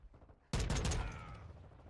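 FTAC Recon rifle in Modern Warfare 2 fires one sharp, loud shot that breaks a short quiet, then rings out and decays over the following second.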